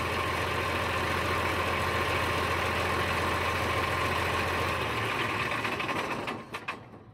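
A Caterpillar 140H grader's diesel engine runs loudly and steadily with a constant rattling drone, then winds down and cuts off near the end, followed by a few faint knocks. The fuel shutoff solenoid fails to stop the engine.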